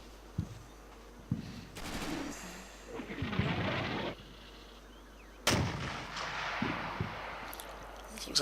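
Mortar rounds and explosions boom in a World War II Normandy battle from a tactical video game, several distant thuds and blasts spaced through the passage with rumbling tails, no voices over them.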